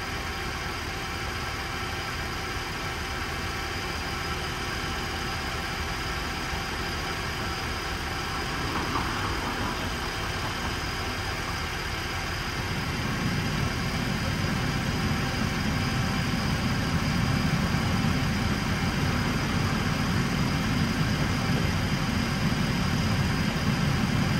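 A GM 3.6L engine idles steadily on its own, warming up after being drained and primed. A low, even rumble runs throughout and grows somewhat fuller partway through.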